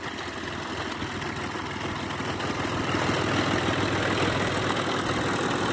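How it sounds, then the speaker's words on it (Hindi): A small tractor engine drives a pulley to pump river water, running with a steady, low rumbling idle that stays constant and fairly loud throughout, with no talk over it. "पुली की मदद से ट्रैक्टर लगाया गया है, छोटा एक आवाज़ी ट्रैक्टर है, तो उसके ज़रिए पानी निकल रहा है।"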